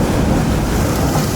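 Loud, constant wash of waves and wind surrounds a small sinking island, the surf roaring without pause and buffeting the microphone.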